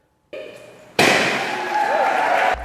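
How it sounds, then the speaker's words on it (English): A sudden loud boom from a ceremonial cannon at the opening of a children's museum cuts in after a faint hum, followed by a sustained roaring rumble and crowd noise that lingers before cutting off. "the cannon sounds to officially mark the opening of the new Meridian Children's Museum."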